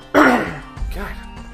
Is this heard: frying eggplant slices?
no